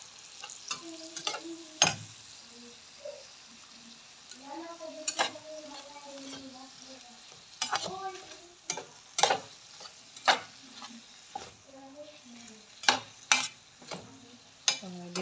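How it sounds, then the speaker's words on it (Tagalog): Seafood mix being stirred into seasoning ingredients in a frying pan, with a steady soft sizzle under repeated scrapes and clacks of a utensil against the pan, close by and with no voices. "nailagay ko na ang seafood mix dito sa ating seasoning ingredients. So ayan, mikos-mekos lang."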